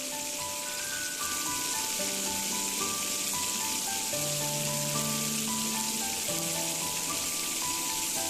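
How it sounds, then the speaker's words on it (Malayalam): Mutton keema vadas fry in hot oil, giving a steady dense sizzle and crackle under a faint melodic background tune, continuous and close. "ഇതുപോലെ നമുക്ക് മറ്റ് വടകളും കൂടെ ഫ്രൈ ചെയ്തെടുക്കാം."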